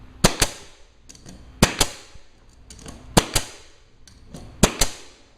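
A nail gun fires into plywood floor planks in four pairs of sharp, loud cracks, each pair a quick double shot, spaced about a second and a half apart, close by with a quiet room between bursts.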